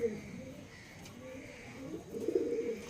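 A pigeon coos softly and low nearby in short rolling phrases, faint and close, with light background noise.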